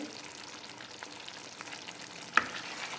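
Appalam kuzhambu, a Tamil curry, bubbles and sizzles in a pan, a soft continuous simmering crackle with one brief clink partway through.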